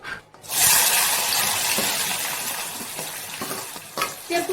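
Steady crackling sizzle of three chopped large onions frying in hot oil in a kadhai, loud and close, starting abruptly after a brief quiet moment and continuing with a few clinks.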